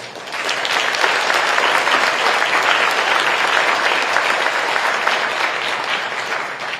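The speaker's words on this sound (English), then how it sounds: "I would like us all to please give MOFA Taiwan a round of applause" Sustained applause from an audience at a Taiwanese foreign ministry spring banquet, steady dense clapping holding loud and even for several seconds with a faint murmur of the crowd beneath.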